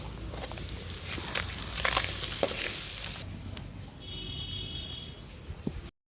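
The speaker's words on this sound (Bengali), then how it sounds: "সবগুলো আবার ভালোভাবে ভেজে নেব।" Cauliflower stems and fish fry on a clay stove in a village kitchen, a faint hissing sizzle with scattered stirring scrapes that grows quieter before stopping.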